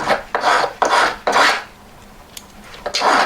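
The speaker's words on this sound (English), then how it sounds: "get a big fat file, start on the corners" A big, coarse file rasps against the end of a metal wire held in parallel pliers, giving loud, close strokes in a steady rhythm of about five passes with a short pause before the last one.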